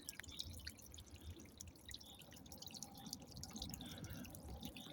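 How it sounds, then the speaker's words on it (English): Water dripping steadily in the Russian hills, a constant soft patter of drops over a low outdoor background, continuous throughout with no voices. "The water is constantly dripping, no matter what time of year, except in the winter, of course."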